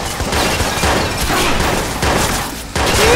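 Gunfire rattles through a prison fight in Watch Dogs: repeated close shots and bursts crack in irregular clusters with booming low impacts, loud throughout.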